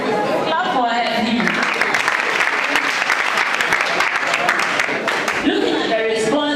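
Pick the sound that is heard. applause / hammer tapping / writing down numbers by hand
applause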